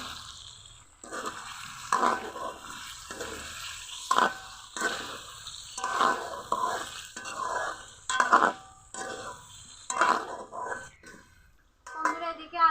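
Boiled potatoes being fried and stirred in spice paste for aloo dum. Repeated scraping stir strokes land about once a second over a low sizzle, close and fairly loud.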